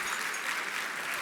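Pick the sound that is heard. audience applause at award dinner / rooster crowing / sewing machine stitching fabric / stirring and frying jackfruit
audience applause at award dinner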